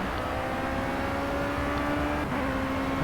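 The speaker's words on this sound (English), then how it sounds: "Coming out of the tunnel now, hitting the rev limiter as we exit the tunnel." Steady, high-pitched drone of a Formula C race car engine held at high revs on the Monaco circuit in a racing game, loud and close with little change, a brief dip near the end.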